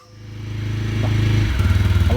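A motorcycle engine idling and building revs at the start of a ride, a close rhythmic mid-pitched chug that grows steadily louder and shifts into a faster throb, with light clatter and no talking.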